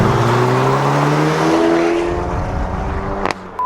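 A modified 2019 Chevrolet Camaro 1LT roars up through the revs, its loud engine note climbing in pitch, then easing off abruptly.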